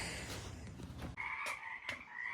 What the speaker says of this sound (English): Frickin' frogs are back.